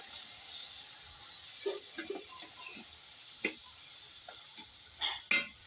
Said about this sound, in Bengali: মটনটা দিয়ে জাস্ট একটু শুধু নাড়াচাড়া করে নেবো, খুব বেশি না, হালকা ভাবে নাড়াচাড়াটা করবো।